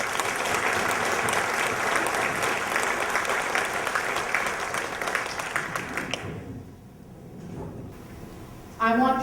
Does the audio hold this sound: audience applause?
yes